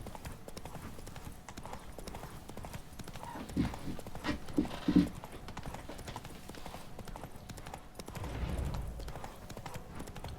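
Roach the horse clip-clopping along in The Witcher 3, a steady run of hoof beats at moderate distance with a few brief louder knocks midway and a low rumble near the end.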